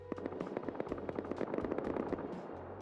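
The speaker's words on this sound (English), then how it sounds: "There's so much shooting, what is going on?" Heavy shooting from several guns around a contested locked crate in the survival game Rust. The cracks come in dense, irregular bursts that sound somewhat distant and carry on steadily with no talking.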